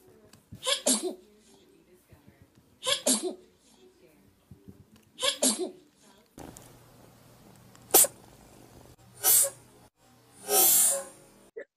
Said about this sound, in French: ça me fait tellement rire des éternuements